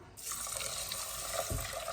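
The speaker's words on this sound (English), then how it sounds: "So next I'm going to add 3 cups of liquid." Beef bone broth pours from a container into a pan of rice, a brief continuous splashing trickle heard close up and alone.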